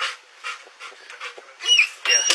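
A sheriff's office police K-9 makes a string of short, breathy bursts, like panting or whimpering, close by. It ends in louder, harsher sounds.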